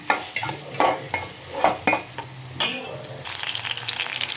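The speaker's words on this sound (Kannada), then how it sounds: "ಇದನ್ನು ಸ್ವಲ್ಪ ಫ್ರೈ ಮಾಡಿ ಪಕ್ಕಕ್ಕೆ ತೆಕ್ಕೊಂಡು" Apple and chepekai frying in ghee in a pan with a steady sizzle, broken by several sharp scrapes and clinks of a spoon stirring against the metal, with no voices.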